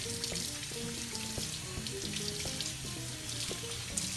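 Tap water runs steadily into a kitchen sink as raw chicken breasts are rinsed, a continuous close splashing stream with faint clatters beneath and no speech.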